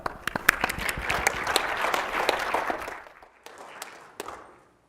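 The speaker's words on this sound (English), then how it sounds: "Big round of applause." An audience at a tech conference session breaks into applause, a warm burst of many hands clapping that swells, then thins into scattered claps and fades out.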